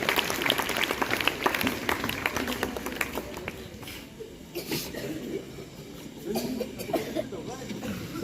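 Audience clapping at a rural youth gram sabha award ceremony, a dense wash of claps that is strongest at the start and eases off midway, then rises again, with voices murmuring underneath.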